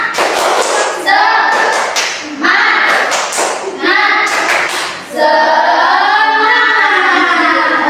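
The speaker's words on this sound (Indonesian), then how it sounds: "Sekarang kita tepuk semangat biar semangat" Children in a classroom perform a tepuk semangat chant, clapping in rhythmic bursts between sung group lines, loud and close, the clapping patterns broken up by sustained chanted voices.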